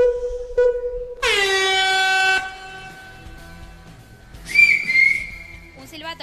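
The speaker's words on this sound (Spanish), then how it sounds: "Silbato. Correcto." A loud, shrill whistle blast held for about a second, then a shorter high-pitched toot a few seconds later, with quiet gaps between.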